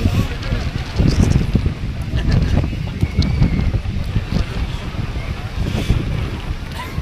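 Strong wind on Himavad Gopalaswamy hilltop near a temple buffets the microphone in a continuous low roar and rumble, with people talking through it.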